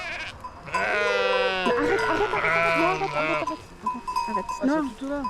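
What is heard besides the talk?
Rove goats bleating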